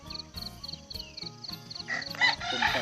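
A rooster crows among chickens at a rural rice farm in a village in Khammouane, Laos, in the morning. Repeated short calls give way to a louder, busier stretch of fowl noise.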